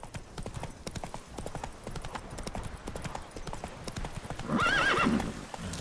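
Hooves of Roach, a horse in the video game Witcher 3, clip-clopping in a steady rhythm, with a short whinny near the end; a faint voice talks underneath.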